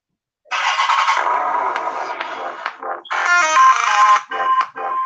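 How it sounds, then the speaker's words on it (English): A mobile phone rings loudly nearby with a bright, melodic electronic ringtone in repeating bursts, heard alone without talk. "That's my phone, dog. I apologize."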